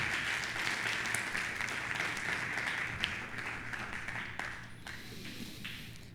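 Church congregation applauding during a Sunday service, a steady wash of clapping with a reverberant, room-filling quality that slowly fades.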